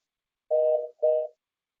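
A phone line drops out of a video meeting and leaves two short electronic tone beeps, each about half a second long, evenly spaced, clear and alone with no talking.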